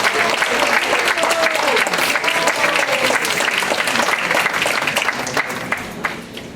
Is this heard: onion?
no